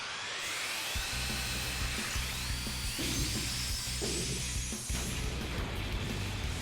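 A Gurren Lagann drill attack from the video game Super Robot Wars X: a loud, continuous high-pitched mechanical whirring and grinding that holds steady for several seconds, with scattered impacts beneath it.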